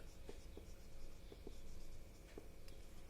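Faint scratching of a pen or marker writing on paper or a board, with light irregular strokes and small taps in a quiet room.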